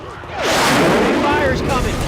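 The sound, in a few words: gunshot in video game Left 4 Dead 2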